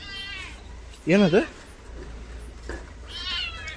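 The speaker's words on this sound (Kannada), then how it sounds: "ಪುಷಿ ಕ್ಯಾಟ್. ಅದು ಬೆಕ್ ಮರಿ ಬಂದರೆ ಬೆಕ್ ಮರಿ." Kitten meowing at home, one short rising meow in close range, followed by a man's brief question and quieter voices afterward.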